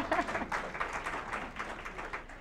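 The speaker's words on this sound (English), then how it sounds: "Give yourselves an applause." Audience of parents and grandparents clapping at a talk on autism, a soft, fairly distant ripple of applause that holds steady and tapers slightly toward the end.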